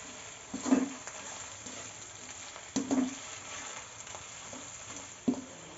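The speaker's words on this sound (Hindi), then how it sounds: "अब ये कीमा जो है इसमें मैं ऐड करने लगी हूँ।" Frozen minced meat (qeema) frying in a hot pan, a steady low sizzle with several brief bursts as the pieces are stirred and broken apart, no talking.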